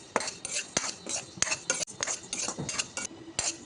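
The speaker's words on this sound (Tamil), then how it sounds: "இன்னொரு கப்பு வறுத்துக்கிட்டுருக்கேன்" Moong dal dry-roasts in a pan, stirred with a metal spoon: rapid, close scraping and clinking strokes in an uneven rhythm with grainy rattles between them and no sizzle.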